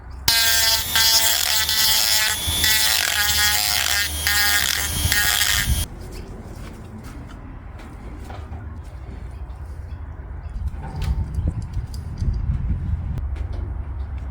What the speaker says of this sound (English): First things first, of course, filing with the Dremel.